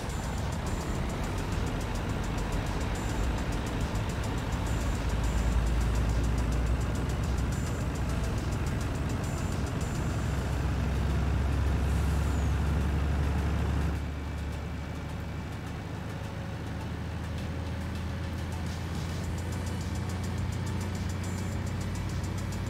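A truck is driven in the Irgendwo in Thüringen video game, its engine giving a steady low rumble that drops to a quieter idle about two-thirds of the way through, with no talking.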